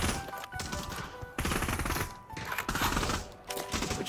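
Rapid automatic gunfire in the VR shooter Pavlov VR on the Nuketown 2025 map, loud close bursts of repeated shots broken by short pauses.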